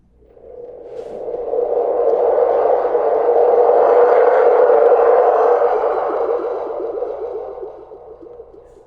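A long, resonant metallic boing from a spring on a cardboard tube about 6 to 8 inches long swells and slowly decays, with a hollow, echoing sci-fi quality, heard alone.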